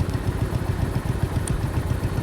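Steady low engine chugging from a 1970 John Deere 140H3 garden tractor fitted with a snowblower, running close by at an even pulse with faint clatter and no voices.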